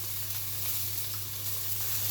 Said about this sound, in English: so very hot pan. It's just going to add the steak to that.